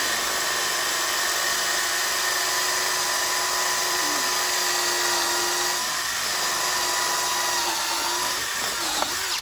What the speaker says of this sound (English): So let's drill an hole.